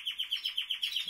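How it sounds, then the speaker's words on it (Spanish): Small birds chirp in an aviary in a steady run of rapid, high tweets, close and fairly loud, with no voices. "Los pajaritos están todos bien."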